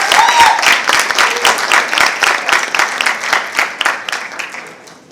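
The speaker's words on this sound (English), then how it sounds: "he deserves a round of applause one more time" Applause at a Great Gatsby–themed university finale dinner, a burst of many hands clapping close and loud, then gradually thinning and fading out over a few seconds.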